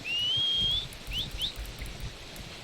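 A sharp, rising whistle for a horse in Red Dead Redemption II rings out, followed by two short upward chirping whistles, clear and fairly loud over faint wind-like background noise.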